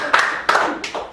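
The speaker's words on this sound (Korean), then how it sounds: "박수 한번 좀 쳐봐요." A few scattered hand claps come from the audience at a Saturday guest lecture, three or four sharp, separate claps within about a second rather than full applause.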